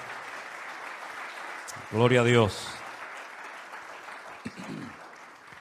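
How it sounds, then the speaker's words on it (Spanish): Church congregation applauding in a steady, sustained wash throughout, with a voice briefly calling out over it partway through. "con todo nuestro cariño le damos este aplauso a ellos por su trabajo excelente"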